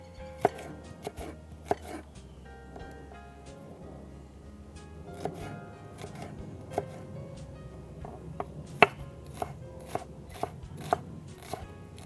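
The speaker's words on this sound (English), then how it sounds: "Chop it real fine." A knife finely chopping a shallot on a cutting board, a quick run of sharp, light taps at an irregular pace, close by, with no voices.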